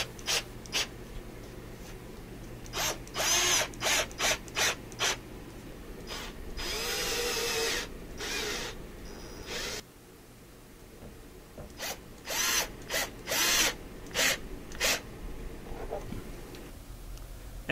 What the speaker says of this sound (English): we can screw the floor and walls to the frame